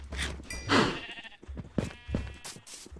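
Minecraft sheep bleat in a farming game, several short wavering cries in a row, close and fairly loud with no talk over them.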